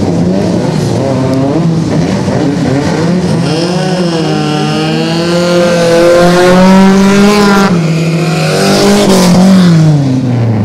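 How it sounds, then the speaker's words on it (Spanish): Rally kart engines roaring at an APRAKART championship round in Ibarreta, a loud sustained buzz rising and falling in pitch as the karts accelerate and shift, with revs sweeping up and down close by. "Qué motores, qué ruido"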